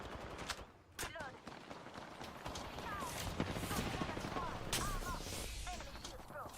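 Gunfire crackles steadily in a shooter video game, mixed with frequent chirping effect tones and a continuous busy din of combat noise at moderate volume.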